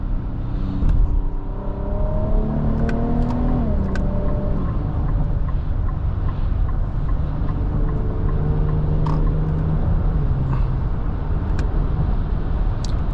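Inside a 2026 Nissan Armada NISMO SUV, its twin-turbo V6 pulls hard with engine tones climbing then dropping at quick gear shifts, over constant road and cabin rumble.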